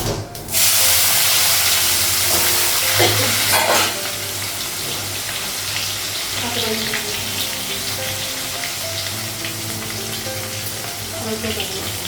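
Potato and onion dropped into hot oil in a home kitchen, a loud hiss bursting at the start and then settling into a steady crackling sizzle, with stirring clinks and scrapes against the pan.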